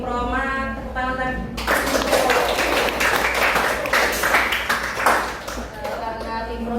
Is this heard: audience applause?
yes